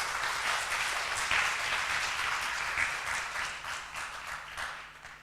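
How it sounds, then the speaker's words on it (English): A symposium audience breaks into sustained applause at a closing session, a steady, fairly full round of clapping that gently fades toward the end. "Give them an applause"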